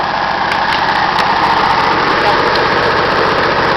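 An engine runs at a steady idle up close, a loud constant droning hum with a rattly vibration that holds at the same level throughout, with no pauses or changes in pitch.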